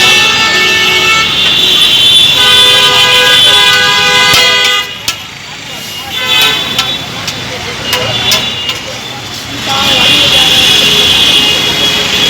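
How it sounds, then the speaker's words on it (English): Dense traffic roars along a chaotic, busy road in Kolkata, loud and constant, with several long car and bus horn blasts layered over the engine noise; people can be heard talking amid the din. "This is right on top of this, chaotic, busy road."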